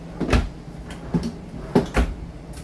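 Kitchen drawers in a 2024 Grand Design Momentum 23G toy hauler RV are opened and closed, giving a few close, soft knocking thuds spread over about two seconds, with no talking.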